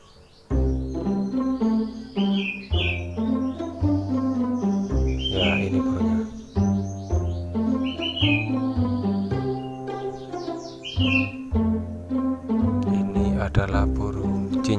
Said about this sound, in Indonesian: Adalah burung cincing batu ya,